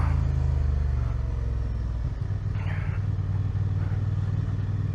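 Honda Transalp 750 motorcycle revving hard during a wheelie attempt, with a loud, close, pulsing engine drone that shifts pitch about midway and continues to the end.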